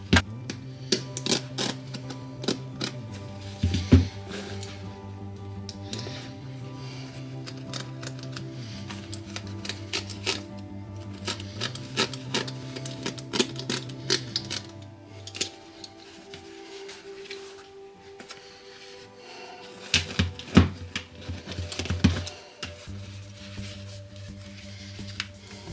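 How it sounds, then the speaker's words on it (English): Elastic side gussets being cut out of R.M. Williams leather boots during a resole, heard as a run of sharp clicks and snips with quiet gaps between them, close and with no talk. "Time to cut out the elastics."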